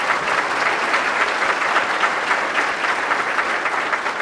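A crowd at a city's State of the City address claps loudly and steadily for the trio who sang the national anthem, a dense, even round of applause with no talking.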